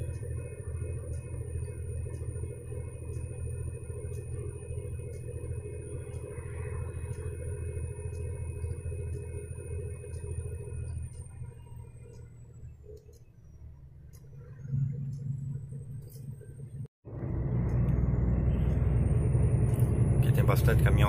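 Steady low road rumble on a rainy highway toward Santiago, Chile, with truck traffic and snowy mountains nearby, heard continuously from inside a moving vehicle, with faint ticking, a brief dip, and a loud close surge of roaring noise near the end.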